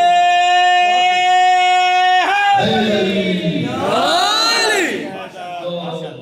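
A crowd at a Milad gathering for Imam Hassan Mujtaba in a Dublin azakhana bursts into loud, rising chanted slogans after a sustained held note, voices swelling together and fading near the end.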